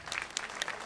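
Brief burst of audience applause honoring a Turkish folk musician, scattered sharp claps at moderate distance lasting under a second.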